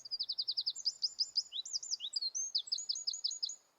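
Songbird resembling a chaffinch delivers a rapid, bright series of repeated trilled notes that shifts pattern partway through, clear and fairly close, with no talk.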